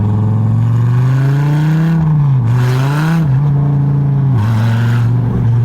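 A 2014 Dodge Viper TA time attack car, rebuilt after a wreck, out on a track: the engine drones loud and close, rising and dipping in pitch with several short lifts between pulls, and nobody talks over it.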